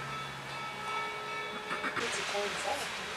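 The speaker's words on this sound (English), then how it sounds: "I know the locomotive's moving." An 1880 steam locomotive moves through a train yard, with a low rumbling mechanical drone, some clanking and tonal ringing, and a rise in noise toward the end, all fairly faint behind someone talking.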